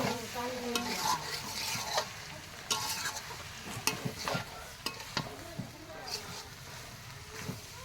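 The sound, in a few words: beef tripe being stirred and fried in a pan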